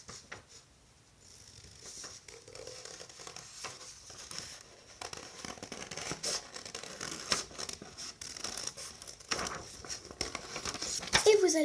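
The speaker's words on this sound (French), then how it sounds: "avec vos ciseaux, vous allez découper sur le trait." Scissors cut along a drawn line in paper while an Easter hanging decoration is being made; close, dry crinkling snips and rustles come in irregular bursts, with a quiet voice in the background.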